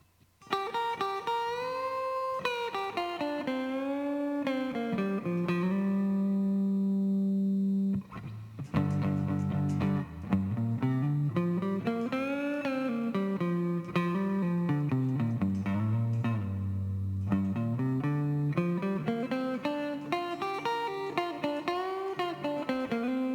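Electric guitar played through effects in Rocksmith 2014, a loud sustained distorted melodic jam with bending, gliding notes and a brief break early on, no talking.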